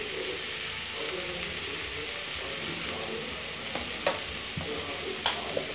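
Steady sizzling and frying of potatoes in a pan as turmeric is added, continuous hiss with a few light stirring clicks and scrapes near the end.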